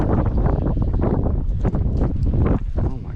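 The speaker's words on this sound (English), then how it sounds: "Ooh, it is so windy." Strong wind buffets the microphone in a loud, continuous roar with gusty surges throughout, out on a river in a jon boat.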